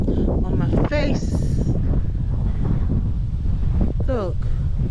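Strong wind blows across open ground on Wallasea Island, buffeting the microphone in a steady loud roar, with a voice speaking briefly over it.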